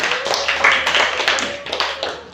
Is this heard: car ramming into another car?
no